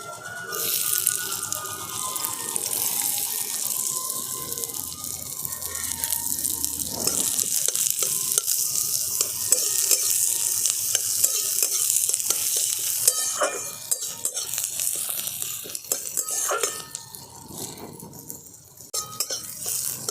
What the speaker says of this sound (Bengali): তেলটা গরম হয়ে গেছে আর দিয়ে দিচ্ছি কেটে রাখা পেঁয়াজ